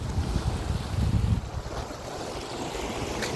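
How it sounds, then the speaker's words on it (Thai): Sea waves wash in under strong evening wind on a brackish coastal stretch, a steady broad roar of surf mixed with gusting wind buffeting the microphone, slightly heavier at first and then settling into a continuous wash. "เสียงคลื่นวันนี้ลมแรงนะคะ เสียงคลื่นซัดเลย"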